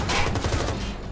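Rapid overlapping gunfire in the video game Watch Dogs, a dense, continuous burst of shots at steady loudness throughout, with no talk over it.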